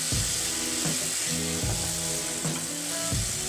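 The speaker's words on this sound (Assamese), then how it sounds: "আৰু এইখিনি অকণমান ৰঙা হোৱালৈকে মই ভাজি থৈ ল'ম" Onions frying in a pan for an onion and milk dish give a steady, close sizzle with periodic stirring scrapes roughly every second.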